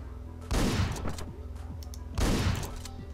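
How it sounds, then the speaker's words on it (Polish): Two loud gunshot blasts from the video game Hotline Miami, the first at about half a second and the second near two seconds in, each ringing out over a steady game soundtrack. "strzał zdecydowanie słychać"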